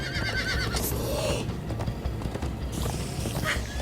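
Horse neighing during a ride, a loud whinny rising over steady hoofbeats and busy outdoor commotion, close and continuous through the short stretch.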